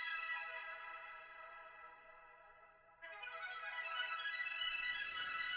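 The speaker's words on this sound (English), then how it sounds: "So I did this little ARP thing" Filtered synth arpeggio from a Juno, a steady sparkling pattern that gets brighter and fuller halfway through, with a shimmery high wash swelling near the end, played alone.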